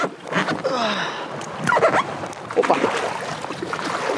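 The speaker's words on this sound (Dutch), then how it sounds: "Ik ga even wat water in." Splashing and sloshing as someone in a waterproof suit wades into water while perch fishing, with wind noise and a brief spoken exclamation.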